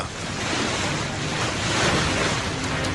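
Storm-driven ocean waves surge and roar continuously during a flooding storm tide off Long Island, a loud dense wash of surf with wind noise and no voices.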